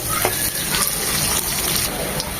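Chopped onion sizzling in hot oil in a pan for chicken curry with chickpea lentils, a dense continuous hiss with small pops and stirring scrapes, close and even in level.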